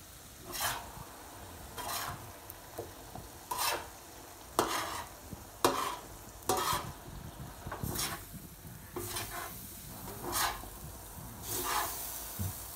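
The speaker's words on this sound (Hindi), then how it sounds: "हम इसको थोड़ा सा मज़ीद भून लेंगे" Keema fries on a tawa with butter and garam masala, a steady soft sizzle under repeated scraping stirs of a spatula, roughly one stroke every second, close by with no talk.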